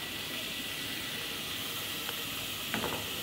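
Tomatoes hit a pan of frying vegetables for a mixed vegetable dish with coconut milk, giving a steady low sizzle and hiss throughout, with a couple of faint stirring clicks near the end.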